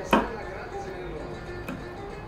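A knife slices into a head of gyros meat, giving two sharp, close cutting strikes about a second and a half apart over a low, steady background.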